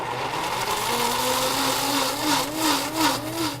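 Blender pureeing peaches for bellinis in a holiday kitchen, a steady whirring motor with a rising and falling pitch that runs without a break, close and fairly loud.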